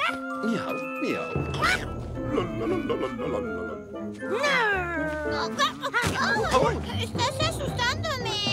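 A voice imitates a cat meowing in the middle of excited, playful children's chatter in the Spanish-dubbed animated film Little Bear: La Pelicula, with lively voices and background music around it.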